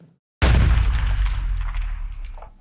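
A designed gunshot layered with a bass drop hits suddenly after a moment of silence, a loud, booming blast with deep low-end weight that rings out and decays slowly over the next two seconds.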